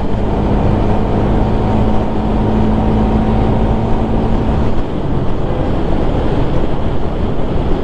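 Sea surf rolls in beside the Marine Drive road, a loud, continuous wash of breaking waves mixed with heavy wind rumble and no voices.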